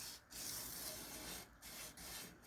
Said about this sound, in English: Now you're taking your stone across those scratches, the exact opposite way you just created them.